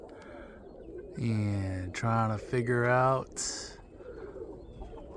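Roller pigeons in a loft give a few low, throaty coos close by while someone talks over part of them.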